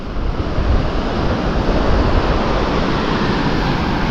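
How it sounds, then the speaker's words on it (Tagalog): Heavy surf crashes and rushes continuously at Bucana beach, a loud, dense roar of strong ocean waves mixed with wind, with no voices. "Medyo malakas ang alon."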